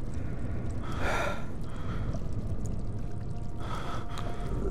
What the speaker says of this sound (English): Some of that heavy breathing is not from the game, it's my own.